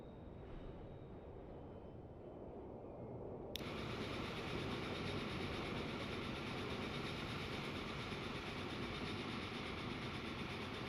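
A log-hauling train in Transport Fever 2 rumbles steadily, starting quieter and then jumping to a loud, broad, continuous rolling noise that holds to the end, with no talking.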